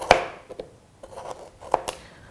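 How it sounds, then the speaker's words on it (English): A knife chops food on a chopping board while making beef stew, giving several uneven sharp knocks and scraping cuts up close, with no talking. "I go up and down with the knife. So it's not actually leaving the chopping board"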